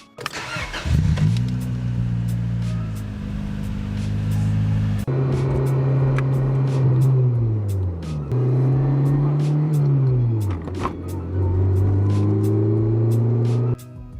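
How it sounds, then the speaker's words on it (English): A Honda Civic EK coupe with a swapped B16 engine is heard from inside while driving, its engine droning and rising in pitch through the gears, with clear drops at each shift and a loud steady presence throughout. "one thing I haven't really done on this channel is some driving in the Civic now that it's all complete"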